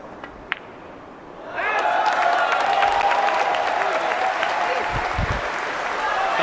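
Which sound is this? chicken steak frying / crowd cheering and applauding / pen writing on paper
crowd cheering and applauding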